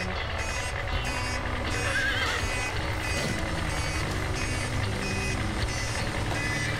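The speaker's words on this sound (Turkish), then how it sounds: "Ama avlumda bip bip sesi istemiyorum." In a children's cartoon, a vehicle sounds a steady run of reversing beeps against a busy background, with a horse whinnying and hooves clip-clopping.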